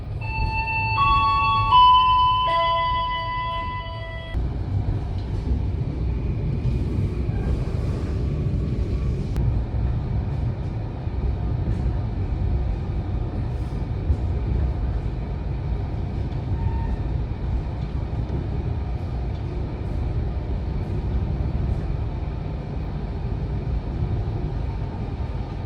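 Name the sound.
Argo Merbabu train arriving at the station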